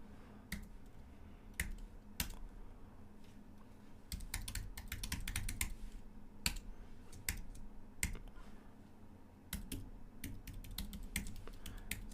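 Someone types terminal commands on a computer keyboard, sharp scattered keystroke clicks in irregular bursts and pauses over a quiet background.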